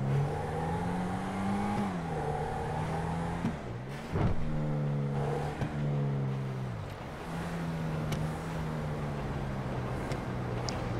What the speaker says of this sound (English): Oh wow, this exhaust popping.